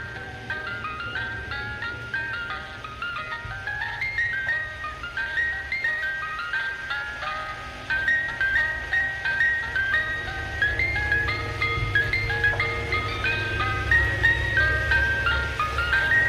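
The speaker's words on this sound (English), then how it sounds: "anytime I'd hear an ice cream truck passing by" An ice cream truck drives past playing its tinkling melodic jingle, the tune looping over and over at a steady moderate volume with faint engine rumble underneath.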